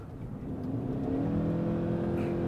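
A 2023 Ford Maverick Lariat pickup accelerates in normal drive mode, the engine note rising smoothly and steadily in pitch and loudness, heard from inside the cab with no talking.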